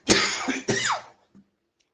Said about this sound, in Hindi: खांसी है।